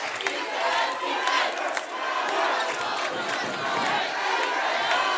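A packed gym crowd at a high school boys' district tournament basketball game, Kellogg vs. Bonners Ferry, roars and cheers continuously, a loud, dense wall of voices with shouts rising throughout.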